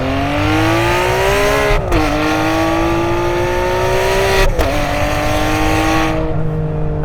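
A 2009 Ferrari 599 GTB Fiorano engine accelerates at half throttle in race mode with paddle shifting, a loud steady rising howl broken by two brief dips at the upshifts.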